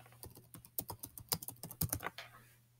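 Typing on a computer keyboard while entering an email subject: a quick, close run of clicky keystrokes, fairly even in rhythm, ending in a couple of firmer taps with no talking.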